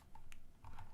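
Computer keyboard typing, a short burst of keystrokes entered as a file path in a CMS settings form, quiet and close with no talking.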